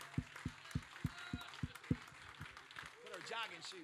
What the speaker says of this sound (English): clap your hands tonight